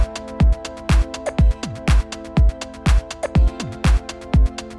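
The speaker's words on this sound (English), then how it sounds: "Imagine in Ableton we've got a basic drum loop" Basic electronic drum loop programmed in Ableton, with a punchy kick, crisp hats and snare hits repeating in a steady, even rhythm, loud and alone with no voice.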